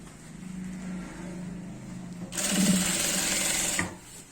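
A sewing machine stitches a trouser waistband. A low hum comes first, then a loud, close, rapid run of stitching lasts about a second and a half before stopping abruptly.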